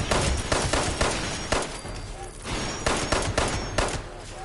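Automatic gunfire in Fallout 76, dense rapid bursts of loud shots rolling into one another over a few seconds, punchy and close with brief dips between volleys.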